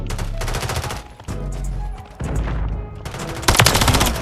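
Rapid automatic gunfire bursts in the Black Ops 6 video game, loud and dense, broken by short pauses and with heavier shots near the end.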